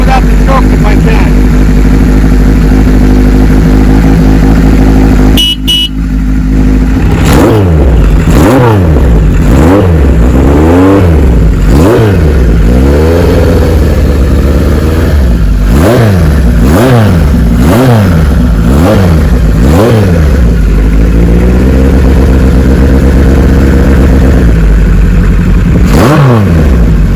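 A 1974 Kawasaki Z1 900 motorcycle engine idles loud and close with the choke off, then revs repeatedly in sharp rising and falling throttle blips, with a brief knock partway through.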